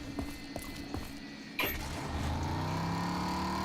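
A car engine in the video game RAGE idles roughly under scattered knocks, then revs up with a steadily rising whine that carries to the end. The engine is close and steady, with no voices.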